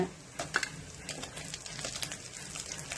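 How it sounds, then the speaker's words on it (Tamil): Dried red chillies and dal dry-roasting in a pan for curry leaf chutney, a soft continuous crackle with a few sharper ticks and scrapes of stirring, close and fairly quiet, with no talk. "இந்த அளவு செவக்கிற வரைக்கும் வறுத்துக்கிறோங்க"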